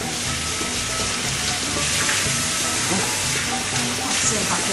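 Food fries and sizzles in a pot over a lowered flame, a steady dense crackling hiss filling the whole stretch at close range, with faint stirring beneath.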